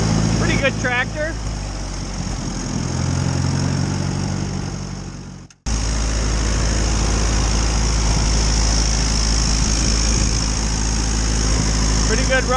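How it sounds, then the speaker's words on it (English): An Allis Chalmers WD45 tractor engine with a rebuilt carburetor idles with a steady low rumble, briefly dropping out before resuming, while a person speaks over it. "Pretty good running tractor."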